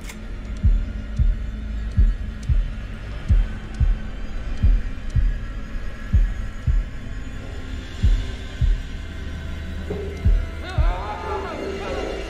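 Steady, heavy heartbeat thumps from the horror game Man of Medan, evenly spaced double pulses over a low hum, loud and close throughout, with a faint shimmering swell near the end.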